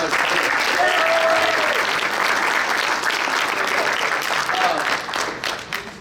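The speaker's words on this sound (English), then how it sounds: "So give a round of applause for Kelly." Guests at a fall sports banquet give the caterer a round of applause, a brisk, full burst of clapping that tapers off near the end, with voices mixed in.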